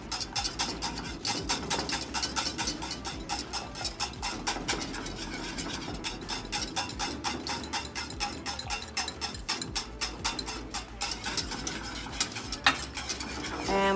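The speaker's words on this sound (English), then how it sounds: "So again, I'm going to keep on whisking, low flame." A whisk beats a thickening white sauce in a pan over a low flame, quick rhythmic metallic scraping and clicking against the pan sides, steady and close throughout, no voices.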